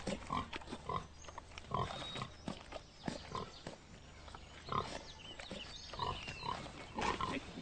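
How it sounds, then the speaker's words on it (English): A pig, the prize sow Empress of Blandings, grunts in repeated short snorts at close range, with scattered rustling and shuffling in between. "That will be the Empress of Blandings, my lord. The finest pig in the county."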